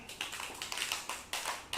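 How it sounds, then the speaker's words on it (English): Schoolchildren in a classroom applaud a classmate with a quiet, scattered patter of small claps and taps over roughly two seconds. "Clap for Devashree, all of you."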